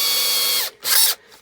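Power drill running with a thinner bit during plasterboard work, a steady whining motor that winds down, then a second short burst, close and loud with no talk.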